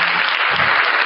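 Large crowd applauding steadily throughout, dense clapping at a loud, even level with no talk.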